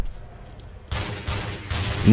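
Weapon fire in the video game Half-Life, a few loud broadband bursts starting about a second in, each cracking sharply and then ringing, heard alone without talk.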